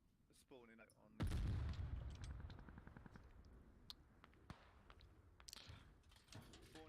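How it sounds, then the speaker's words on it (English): Battlefield explosions and gunfire in a tactical shooter on Kokan Valley: a heavy boom hits near the start, followed by rapid bursts of automatic fire and scattered distant shots, while a player talks over the chaos. "Explosion going off on a techie"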